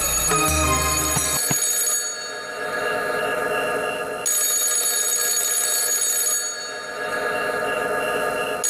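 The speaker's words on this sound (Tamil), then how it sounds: "என்னது இந்த நேரத்தில் யார் ஃபோன் பண்றாங்க?" A telephone rings at night in a home, loud repeated electronic ring bursts in a steady pattern with brief pauses between them and no voices.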